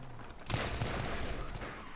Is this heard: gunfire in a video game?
yes